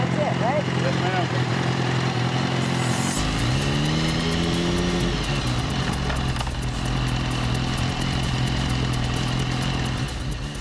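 A land speed racing vehicle's engine roars loud and close, pitch climbing and dropping as it accelerates through the gears over a full-mile run, with a continuous dense rumble throughout.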